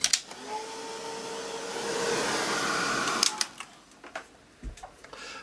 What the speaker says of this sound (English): Let's get the dryer on that.